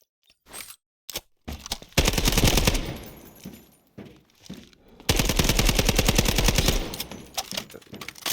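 Automatic gunfire from a jumpy-recoil gun in the shooter Delta Force, played on controller: two long, loud bursts of rapid rattling shots, separated by scattered single shots and short pauses.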